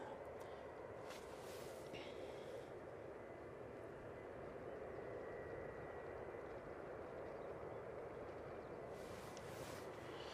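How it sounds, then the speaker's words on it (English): A Lufthansa Airbus A320-200 arriving from Munich at Manchester Airport, heard as a steady broadband jet roar throughout, moderately distant and constant, with a few brief higher hissing bursts. "the Lufty, which is coming in from Munich. It's a 320-200"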